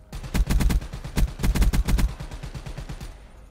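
Rapid pistol gunfire in the Call of Duty Black Ops 3 video game on the Nuketown map, loud close shots in quick bursts of several rounds with brief gaps, played alone without talk.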